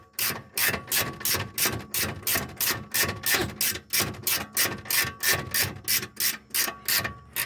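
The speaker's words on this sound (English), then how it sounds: "19 ratchet spanner" A 19 mm ratchet spanner loosens a bolt on the front lower control arm of a 2014 Honda Vezel RU3 Hybrid. About twenty evenly spaced, bright clicking bursts sound up close at a steady, quick rhythm.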